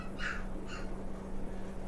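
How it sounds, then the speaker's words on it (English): Puppies let out two quick, high-pitched whines early on, faint and short against a steady low indoor hum, then fall quiet. "you might be able to hear the puppies."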